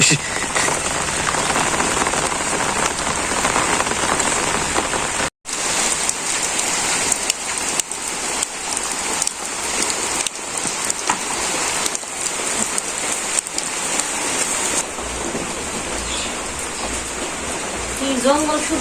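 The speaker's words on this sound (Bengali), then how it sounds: "বৃষ্টি" Steady rain falls on a village, a loud even wash of patter on surfaces that continues throughout with one brief dropout, and a voice speaks now and then beneath it.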